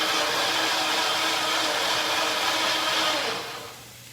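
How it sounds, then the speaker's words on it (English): A blender whirs loudly and steadily as a continuous broadband motor roar, close by and alone, then winds down and fades in the last half second, heard while grilled chicken breast is being prepared. "I know, the blender is noisy."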